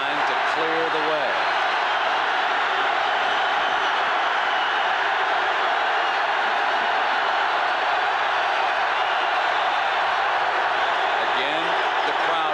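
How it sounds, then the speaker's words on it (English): Football stadium crowd in Lincoln, Nebraska, at a 1987 Oklahoma versus Nebraska game, a constant dense roar that holds at a loud, even level for the whole stretch, with a commentator speaking over it. "Again, the crowd bothering it"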